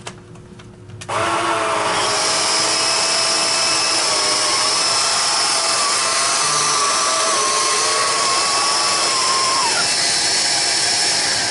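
A Hoover cordless pet vacuum cleaner switches on after a second of quiet and runs with a steady, loud, high motor whine and airflow rush, its pitch shifting slightly near the end.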